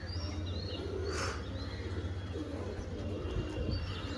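Pigeons kept for sale coo in low, soft, rolling phrases under a constant background hum, with a brief higher chirp partway through.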